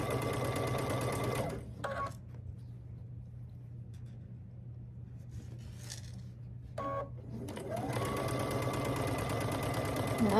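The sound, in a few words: sewing machine chain piecing quilt blocks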